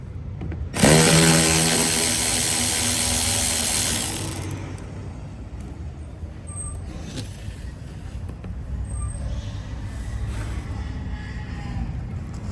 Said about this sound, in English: I'm gonna loosen all of the 7mm bolts around here.